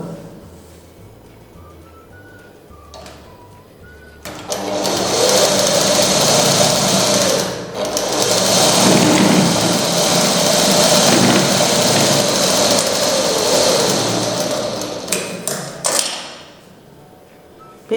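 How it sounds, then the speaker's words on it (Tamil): A sewing machine runs a steady straight stitch down one side of a piece of cloth at a tailoring lesson, a loud continuous whirring burst lasting about twelve seconds after a quiet start, then stopping. "ஒரு பக்கம் மட்டும் நீங்கள் மிஷின் தையல் போடணும்"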